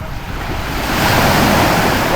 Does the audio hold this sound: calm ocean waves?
yes